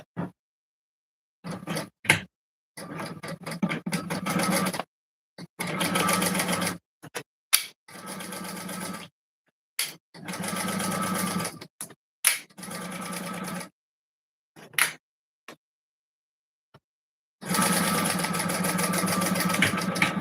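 A sewing machine stitches a quarter-inch seam on a fabric clasp wallet in repeated short bursts of rapid whirring, separated by pauses and occasional clicks, close and moderately loud.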